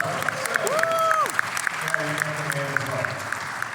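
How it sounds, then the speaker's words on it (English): Steady clapping from a comic convention panel audience continues throughout, moderately loud, with voices and a rising whoop-like call over it. "let's do a round of applause."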